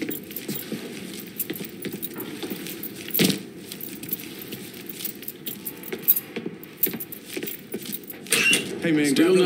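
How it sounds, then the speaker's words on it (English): A set of keys jangles and clinks as they are picked up in the video game Mafia III, short metallic rattles over a low ambient background with a few brief knocks. "Lincoln, pick up the keys"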